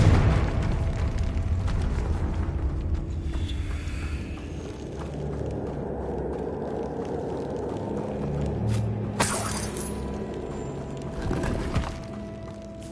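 Confringo fire spell explosions from Hogwarts Legacy: a rumbling, noisy combat bed with two sharper blasts near the end, loud and close.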